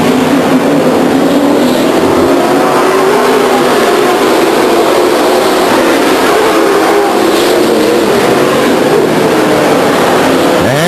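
A field of 22 stock cars roars on the track at Stockton 99 Speedway, a dense, loud wash of engines rising and falling as the pack circulates, with faint voices beneath.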